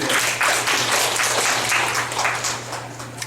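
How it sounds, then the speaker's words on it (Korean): Steady applause from an audience in a college lecture, a dense wash of clapping that holds for a few seconds and then begins to thin out. "박수 한번 주십시오."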